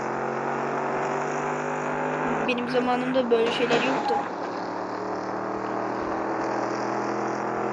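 A car engine hums and whirs steadily while driving in the video game Vice Online, with a brief swell of revving in the middle as someone speaks over it.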